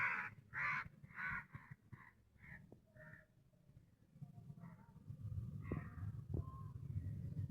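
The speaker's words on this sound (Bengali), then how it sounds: "কাক মামা ভিজে বসে আছে উপরে।" A crow perched on a rooftop garden in the rain caws several times in a quick series, fairly close, then falls quiet while a soft wash of rainfall and faint background noise continues.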